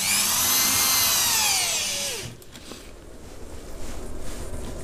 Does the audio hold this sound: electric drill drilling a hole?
yes